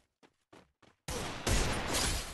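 Gunfire in a shooter video game: after a few short, faint bursts, a sudden loud and sustained barrage of shots erupts and keeps going close and dense to the end.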